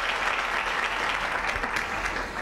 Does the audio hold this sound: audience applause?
yes